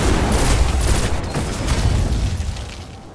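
Rapid gunfire and booming shots from a Control match in the video game Destiny, a dense, loud barrage of overlapping bursts that continues steadily for the full stretch with no speech.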